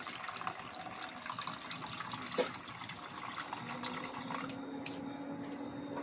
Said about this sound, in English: And the pineapple juice.